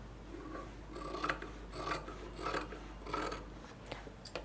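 Scissors snip through fabric around the stitched neckline of a maggam-work blouse, giving a steady series of about five soft, rasping cuts spaced roughly a second apart, close and quiet.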